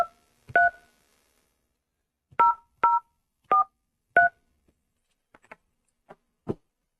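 Telephone keypad tones dialed close by, a quick single beep, then four evenly spaced beeps, followed by a few faint clicks and handling noises.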